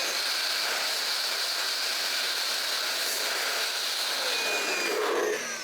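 Compressed air blasts in a steady, loud hiss to clear lint from the tension discs of an APQS longarm quilting machine. The hiss holds constant for the whole stretch before tapering slightly at the end.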